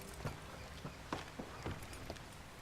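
Horse hooves walking at a steady pace in Red Dead Redemption 2, a soft, even clip-clop of several distinct hoof falls at moderate distance, with no talking.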